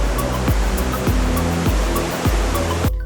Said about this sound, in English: Watch some of the biggest waves you've ever seen crashing down onto the black beaches.